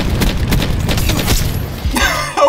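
SG12 shotgun fitted with a flashlight firing in Black Ops 4 gameplay, a rapid cluster of loud booming blasts over about two seconds, followed by a brief voice at the end.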